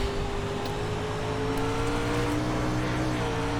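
A dirt Pro Late Model engine under hard throttle in the iRacing sim at Knoxville, holding a loud, steady, droning roar with layered harmonic whine and no voices throughout.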